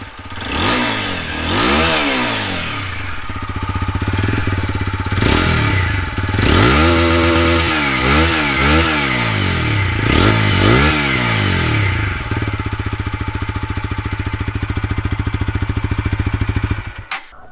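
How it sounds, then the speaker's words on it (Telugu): A 2024 TVS Apache RTR 160 4V motorcycle with dual-channel ABS is ridden: its exhaust note rises and falls through repeated revs and gear changes, then holds a steady loud drone, close and without talk. "ఫస్ట్ మీరు ఎగ్జాస్ట్ నోట్ అయితే వినండి"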